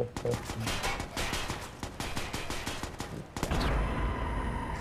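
Rapid bursts of gunfire in a Watch Dogs multiplayer match on PS4, dense overlapping shots over about three seconds, then a heavier blast with a sustained roar; loud and close, with no talk.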